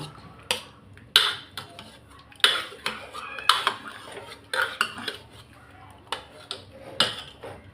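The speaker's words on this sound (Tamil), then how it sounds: "நம்ம குழிக்கரண்டி வச்சே கடைஞ்சிக்கிடலாம்" A ladle mashes cooked bottle gourd and dal in a clay pot, giving sharp, irregular knocks and scrapes against the pot, about a dozen clacks with quieter stirring between them.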